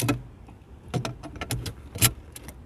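A gear-lever lock goes onto the shifter inside a Ford EcoSport cabin, heard as a few sharp, close metallic clacks and rattles spaced irregularly with quiet between them.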